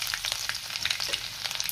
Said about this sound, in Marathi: आणि लसूण आपण थोडासा परतून घेऊया।